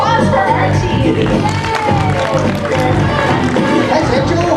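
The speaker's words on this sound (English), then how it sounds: "Let's hear a big round of applause for Archie" A crowd cheers and applauds for a five-year-old male orangutan at an animal show, loud and continuous throughout, with an announcer's voice over the noise.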